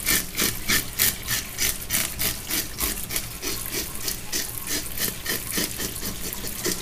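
Knife or scaler scraping scales off a whole red mouth grouper, a rapid, steady run of rasping strokes close up with water running in the background.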